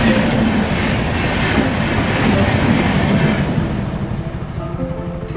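Train passing a manned railway level crossing on the road from Deoghar to Ranchi, a loud close rumble with rhythmic clatter of wagons that eases slightly toward the end.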